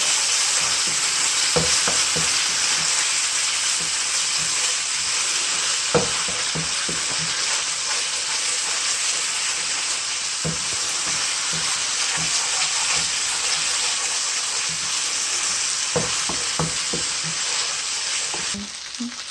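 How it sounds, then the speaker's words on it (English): Beef frying in a pan with curry powder being stirred in, a loud, steady hiss of sizzling oil with occasional soft knocks and scrapes of the utensil. "and a little more curry powder. And give it a stir."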